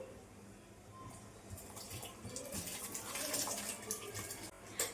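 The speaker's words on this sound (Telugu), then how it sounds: "ఈ వాటర్ అంతా వంపేసి ఈ రైస్ అయితే వేసుకోవాలి" Soaking water pours and splashes steadily off rice from a vessel, growing a bit louder, with soft trickling at close range.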